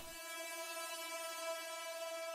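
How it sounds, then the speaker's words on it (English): Synth impact sample from a preset pack, a faint sustained tonal drone with many layered harmonics, steady and unbroken after a soft onset and heard alone. "This synth impact."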